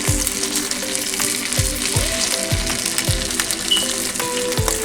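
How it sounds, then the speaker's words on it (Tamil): A single piece of battered chicken 65 coated with corn flour frying in hot oil, a loud steady sizzle with crackling pops and faint stirring taps, close up and with no talking. "எண்ணெய் காஞ்சதுக்கப்புறம் ஒரே ஒரு சிக்கன் போட்டு ட்ரை பண்ணி பாருங்கள்."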